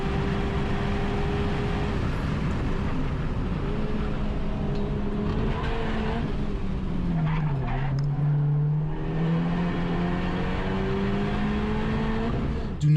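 A sports car engine revs up toward redline, its tone rising and falling in sustained sweeps with a steady loud drone and no talking.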